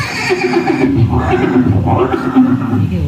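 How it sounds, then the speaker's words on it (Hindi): A horse neighs and whinnies repeatedly in a Chetak scene at Haldighati, loud and close, with other voices or crowd murmur mixed beneath throughout. "ये दृश्य महाराणा प्रताप और सुविख्यात स्वामी भक्त घोड़े चेतक के अंतिम मिलन का है।"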